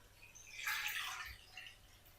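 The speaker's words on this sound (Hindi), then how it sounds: "सबसे पहले हम इसके अंदर शामिल करेंगे खुला पानी।" Water pours into a pan for boiling potatoes, a faint splashing gush that swells and then fades over about two seconds.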